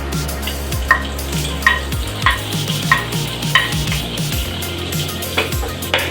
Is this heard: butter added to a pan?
yes